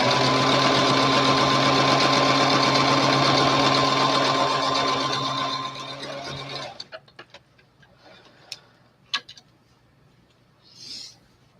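A sewing machine stitches folded-over doll underskirt fabric in antique style, a loud steady whir for about six seconds, then stops, leaving faint handling clicks and rustles.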